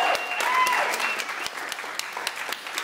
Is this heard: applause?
yes